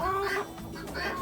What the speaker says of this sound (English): Here comes the big buff rooster.